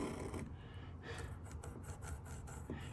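A pencil rasps across wall lining board during a narrowboat fit-out, making a close, continuous scratchy rubbing with short repeated strokes over a few seconds.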